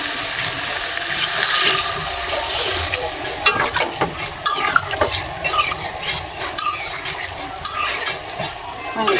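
Loud broadband hiss of water hitting a hot pan of sautéed green banana, with clattering stirring strokes following and a steady sizzle throughout.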